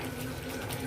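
Water running steadily from a tap into plastic bottles in a home kitchen, a continuous soft hiss with a faint rising fill tone, close and quiet with no talking.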